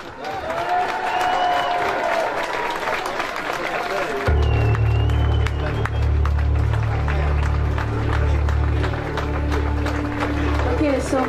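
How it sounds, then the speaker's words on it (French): Concert audience applauding and cheering at a tribute show, a dense crowd wash that carries on as a bass-heavy music backing comes in partway through, with a voice talking over it. "Plus d'applaudissements que ça."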